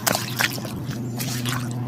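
Waterlogged ground around a flooded papaya tree squishing and dripping underfoot, a close, wet slosh with a few louder squelches at the start settling into a steady soggy trickle.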